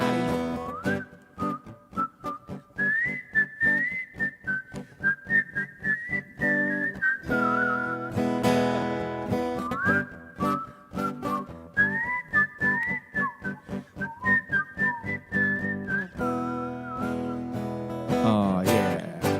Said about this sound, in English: Whistle, Scotty.